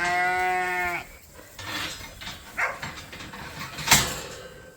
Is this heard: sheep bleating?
yes